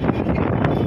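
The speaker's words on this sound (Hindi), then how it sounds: "देख रहे हो भाई हवा कितनी तेज चल रही है" Strong wind buffets the microphone at a rain-soaked fairground, a steady loud rumbling roar with no clear gusts, close and continuous.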